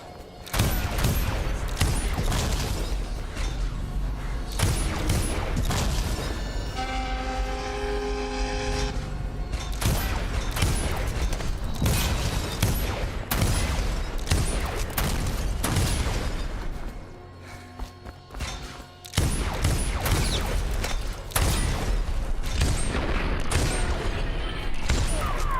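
Rapid gunfire and bursting impacts while shooting whale oil tank targets in the game Dishonored, dense repeated loud shots and clanks through most of the stretch with a brief lull near the end.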